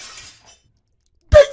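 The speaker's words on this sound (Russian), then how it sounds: "Кто только что бутылку разбил?" A glass bottle shatters in a Minecraft game, a single sharp, loud crash with a bright ringing tail arriving abruptly after near silence and a faint earlier rustle.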